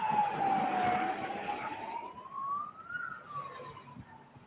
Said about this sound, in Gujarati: અવાજ આવ્યો છે એમ્બ્યુલન્સનો છે કે પોલીસનો?